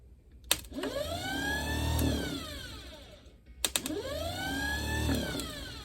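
An electric starter motor on a Ford Model A whirs in two separate bursts, its whine rising then dipping in pitch, with small clicks as each burst begins.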